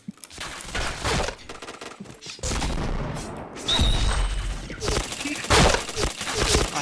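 Bursts of video game gunfire rattle through a frantic match, loud rapid volleys and booming shots recurring across the span while players chatter excitedly over the action.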